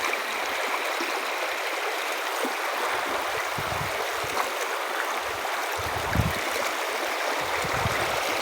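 A stream flows steadily over rocks where gemstones wash downstream. The rushing water makes a constant broad hiss, with occasional low gurgles and soft thumps underneath and no voices.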